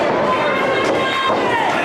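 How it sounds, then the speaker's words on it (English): A wrestling crowd in St. Louis cheers and chants to rally wrestler Anakin Murphy during a tag team match, a steady wash of voices under close commentary talk. "Crowd trying to rally Anakin here."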